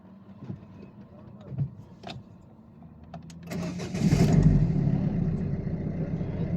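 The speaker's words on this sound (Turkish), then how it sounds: "Bakın çalıştırıyorum şimdi arabayı." Soft clicks and shuffling, then the 1.6 HDi diesel engine of a Citroën C-Elysée cranks and catches, settling into a steady, fairly close idle with a low diesel rumble.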